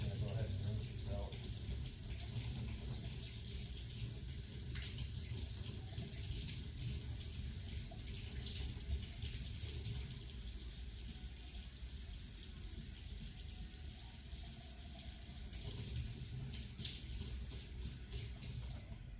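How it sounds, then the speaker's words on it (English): Motorcycle oil screens from a 2024 Kove 450 Rally are rinsed under a running water tap during an oil change. The gushing stream flows continuously for about twenty seconds, fairly quiet, with occasional talk over it. "I'm actually just going to go ahead and rinse these out"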